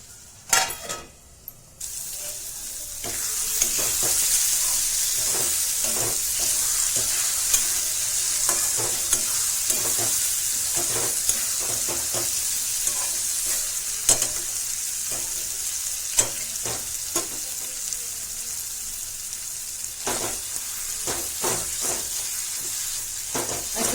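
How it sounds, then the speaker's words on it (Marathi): Potato curry fries in a pan over medium heat while a spoon stirs it, scraping and clinking against the pan in repeated strokes over a steady, close sizzle; no one speaks. "मधून मधून हलवत राहायचं खालून वर वरून खाली असं करत राहायचं"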